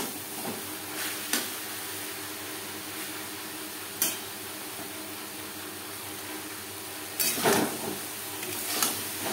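Red amaranth greens (lal shak) fry in a pan over a high flame, making a faint steady sizzle punctuated by a few soft scraping stirs, with no talking.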